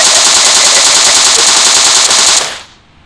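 Sustained automatic gunfire in the video game PUBG, a loud, dense continuous burst lasting over two seconds before cutting off abruptly into near silence.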